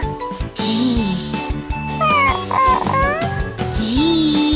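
A cat meows a few times in the video game Love Live! School Idol Festival, with drawn-out, wavering cries over steady background music.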